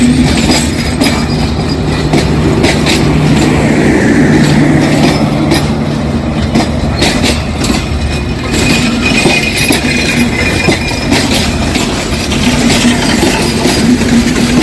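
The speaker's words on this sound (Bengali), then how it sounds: "আসলে ট্রেন এমন একটি যানবাহন পাশে দাঁড়িয়ে থাকলেও যেন একটা ভয় কাজ করে" A train approaching the Hardinge Bridge, loud and close throughout, with a continuous rumble, rhythmic wheel clatter and a steady low drone, without voices.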